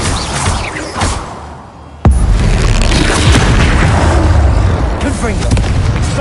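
Confringo spell blasts in Hogwarts Legacy combat: a sharp, loud boom strikes about two seconds in, followed by a dense, sustained rumble of explosive noise mixed with game sounds and battle voices.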